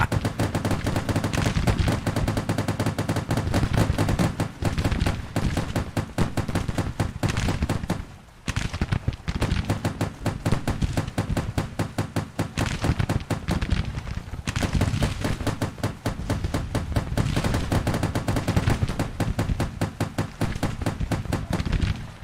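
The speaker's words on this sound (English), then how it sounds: "they got a Gatling on top of the hill now, so we got to deal with the noise." Rapid, continuous Gatling gun fire in the Civil War strategy game Grand Tactician, a loud, dense stream of shots that pauses briefly midway and then resumes at full intensity.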